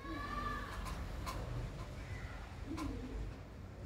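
Pigeons coo in a breeding loft, with low murmuring calls repeating steadily under a constant background hum, and a few brief sharper sounds scattered through.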